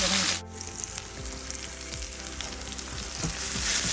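Tomatoes, onion and bottle gourd sautéing in a pan, a loud, bright, continuous sizzle with a brief burst at the start. Soft stirring scrapes are heard throughout.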